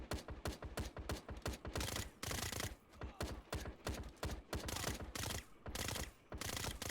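Basic machine gun turrets firing in a tower-defense video game, rapid steady bursts of sharp shots repeating in quick rhythmic volleys with brief gaps, fairly quiet and without talk.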